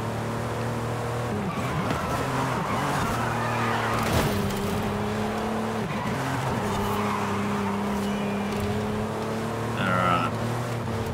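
A Porsche racing in Forza Horizon 5, its engine holding a loud, steady harmonic drone that rises and dips with gear changes, with tires squealing and skidding through corners throughout.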